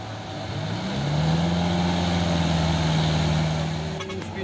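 A loaded HDL 136 PS truck carrying palm fruit revs and strains, its engine drone rising to a steady labored pitch and holding before easing off, close and loud with no talk.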